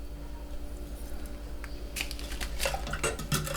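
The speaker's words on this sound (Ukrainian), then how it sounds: "Все добре перемішую" A utensil clinks and scrapes inside a container as homemade hibiscus kvass mixture with sugar and yeast is stirred, the sloshing and tapping growing busier in the second half over a low hum.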